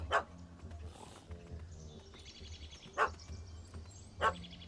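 A dog in The Witcher 3 gives three spaced barks, each sharp and fairly close, over a low ambient game hum with faint soft music.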